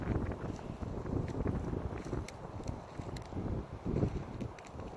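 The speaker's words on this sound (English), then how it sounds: "It's kind of windy now" Wind gusting across open ground outdoors during a morel mushroom hunt in the woods, a steady low buffeting rumble with faint rustling, fairly quiet and continuous with no talk.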